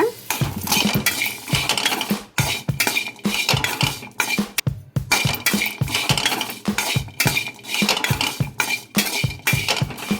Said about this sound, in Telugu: మనము లైట్గా వేపుకోవాలన్నమాట.